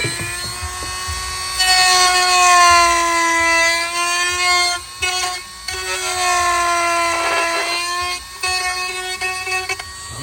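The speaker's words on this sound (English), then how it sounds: "grind these tabs down right here" A Dremel rotary tool grinds down plastic tabs on the secondary air box of a Honda Foreman or Rubicon ATV, giving a steady, loud, high-pitched whine that dips briefly several times as the bit lifts off the plastic.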